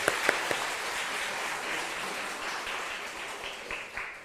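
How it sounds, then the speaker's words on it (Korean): A church congregation applauds, a short burst of dense clapping with a few sharper claps at the start, holding steady and then thinning slightly toward the end. "일단 박수 한번."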